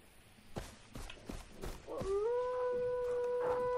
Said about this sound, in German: Das klingt für mich nach Hund oder Dingo.